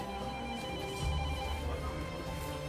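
A telephone rings in a busy restaurant, a steady electronic ringing tone over a dense, noisy room background, with no clear speech.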